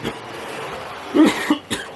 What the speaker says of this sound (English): might be a bit of a cough then